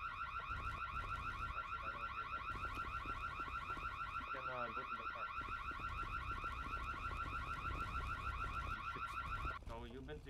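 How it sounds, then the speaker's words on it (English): A loud, continuous car alarm in GTA RP wails with a repeating warbling tone, while a voice talks faintly underneath. "Oh, sorry, the alarm is really loud."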